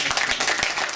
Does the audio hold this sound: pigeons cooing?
no